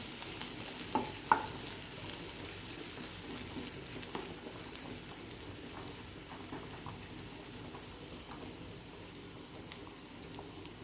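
Chopped onion fries gently in a pan for fried rice, a soft continuous sizzle with occasional crackles and a couple of utensil taps near the start, fairly quiet with no speech.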